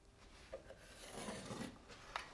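A pencil drawn along a level to mark a straight line in a model railroad train room under construction, giving faint, soft scratchy rasping strokes that come close and quiet with no talking.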